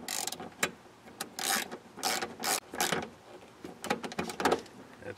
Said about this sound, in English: I got a new bolt, slide her in. And tighten her down.